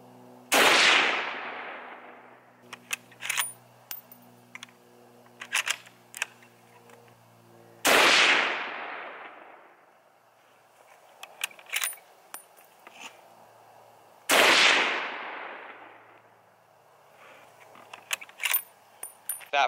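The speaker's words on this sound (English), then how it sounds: "there's just one last type of ammo I'm gonna test, which will be these Agila or Agila 150 grain FMJ" Three loud, sharp rifle shots from a Remington 783 firing Agila 150 grain FMJ 7.62 ammunition outdoors, evenly spaced about seven seconds apart. Each shot rings out briefly, and faint clicks and metallic handling noises follow between the shots.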